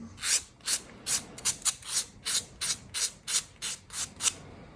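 Nail file rubbing along the edge of a fingernail during a dry manicure, a steady series of about twelve short, close, rasping strokes in an even rhythm with brief gaps between them.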